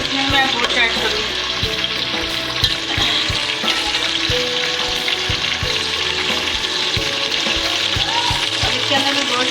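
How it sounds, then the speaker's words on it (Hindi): Ginger garlic paste fries in a pan for a dal gosht with beef, giving a continuous close sizzle broken by frequent spoon scrapes and clinks against the pan. "इसके अंदर मैं अदरक लहसुन का पेस्ट ऐड कर दूँ। इसको 1 मिनट फ्राई करूँगी"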